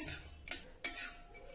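A metal spoon scrapes and clinks against a kadhai while cashews and almonds are stirred and lightly warmed, two sharp clinks standing out over softer scraping, close and fairly quiet.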